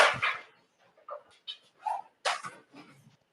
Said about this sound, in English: I'm in here with the noisy puppies.